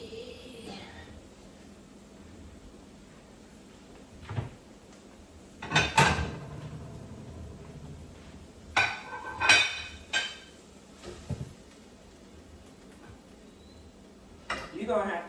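Home kitchen cooking with scattered clinks and clatters of dishes, pots and cutlery in a few bursts separated by quiet stretches, with talking in between.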